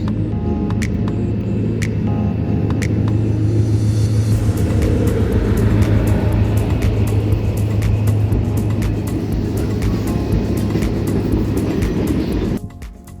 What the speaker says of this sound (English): Okay, that's the train